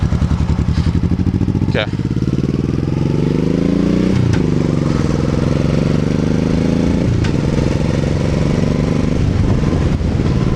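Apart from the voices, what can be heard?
2001 Honda Shadow Bobber motorcycle engine accelerating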